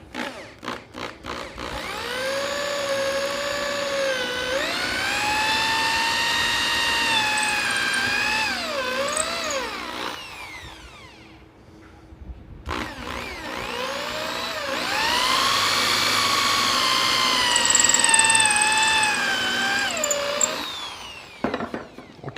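A drill bores a hole through a piece of wood in a woodworking shop, running in two long whining bursts with rising and falling pitch, separated by a short pause.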